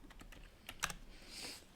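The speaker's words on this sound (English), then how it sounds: "I'm going to just come up here and type it." Typing on a computer keyboard at a trading desk, a short run of close, crisp keystrokes in an uneven rhythm with one sharper clack, heard alone.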